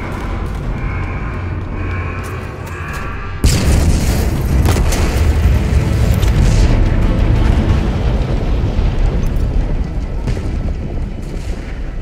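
Gun generator blowing up in Halo Infinite: after a few seconds of quieter ambience, a sudden heavy explosion booms out and rolls into a long, loud rumbling roar that slowly eases.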